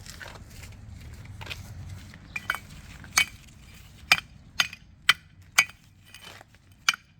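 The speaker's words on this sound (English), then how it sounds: "Now take a hammer and like pound the flat part." Sharp metallic hammer strikes on rusty metal of a 1997 Chevy K1500 body mount area ring out one after another, irregular at first then steadier, close by over a low background hum.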